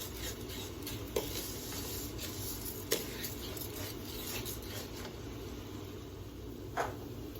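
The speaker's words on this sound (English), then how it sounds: "you want to keep moving the rice around so they don't get burned" Dry rice being stirred and lightly toasted in a pan for Mexican rice: a steady, soft gritty rustle with a few sharper scrapes of the utensil against the pan, no voices.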